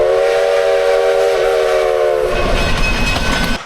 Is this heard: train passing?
yes